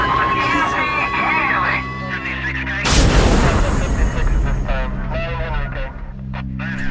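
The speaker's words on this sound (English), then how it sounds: "there's a guy here shooting people" Gunfire from a shooter on a college campus inside Monroe Hall in a dramatized scene: a sudden loud burst of shots and booms breaks in over a droning siren and music-like tones, with voices talking throughout.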